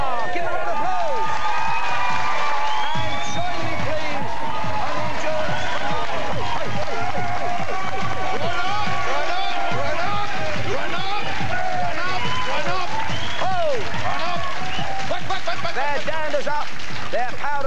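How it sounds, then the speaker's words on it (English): A crowd applauds and cheers steadily for the whole stretch, dense clapping filling the room without letup. "Give them a round of applause."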